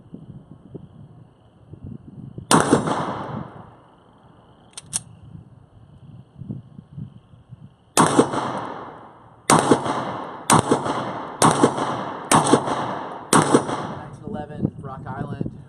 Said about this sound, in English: Right now we're going to be shooting it in the 9mm configuration.